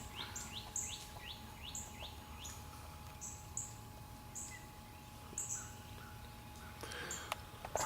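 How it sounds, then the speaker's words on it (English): A northern cardinal sings outdoors in the morning, repeating clear downward-slurred whistled phrases at a moderate distance, with other bird calls and faint background noise around it. "So there's a cardinal."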